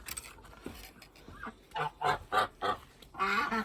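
Several geese honk nearby in a quick run of loud, nasal calls, one after another, with no voices.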